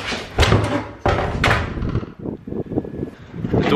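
A door thunks and rattles open with heavy wooden knocks and scraping, close by, followed by shuffling movement.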